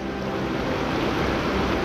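Continuous rushing flow of a mountain creek as hikers cross it on a trail toward Mount Whitney, a steady, close, full wash of water with no voices.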